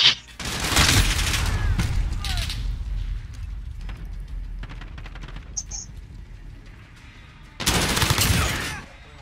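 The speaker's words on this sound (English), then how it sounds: "Enemy precision airstrike inbound." Bursts of rapid gunfire and heavy blasts from a precision airstrike in a first-person shooter game, loud and dense at the start and again near the end, with a quieter stretch between and voices talking over parts of it.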